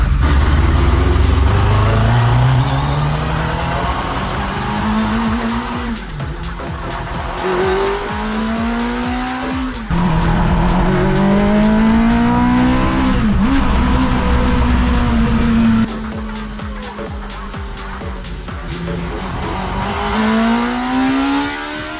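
A JDM microvan with a swapped Hayabusa motorcycle engine drives hard, its loud high-revving engine climbing through gears with rising whines, brief lifts between shifts and occasional tire noise, close and continuous.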